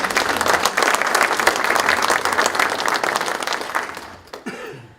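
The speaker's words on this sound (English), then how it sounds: "Let's give them a round of applause." Audience at a Washington County Chamber of Commerce breakfast applauding the standing Economic Development Commission members: a loud, dense burst of many hands clapping that swells and then fades out over about four seconds, followed by a few coughs and throat clearing.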